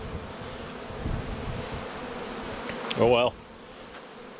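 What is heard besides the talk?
bees buzzing around a beehive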